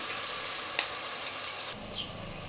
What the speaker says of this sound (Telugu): అల్లం వెల్లుల్లిపాయ పేస్ట్ అయితే వేసేసుకున్నాం కదా మొత్తం బాగా వేగాలండి